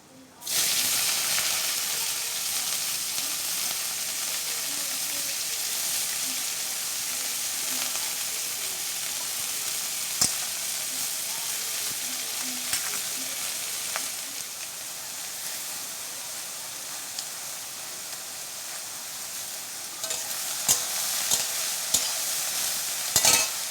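Water lily stems and small parshe fish fry in a hot pan of oil, giving a steady, loud broadband sizzle throughout with faint stirring scrapes and a few sharp clicks near the end.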